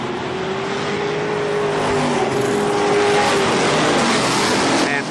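Race cars at Kil-Kare Speedway roar in a steady, loud engine drone throughout, a near continuous track noise with a commentator speaking over it.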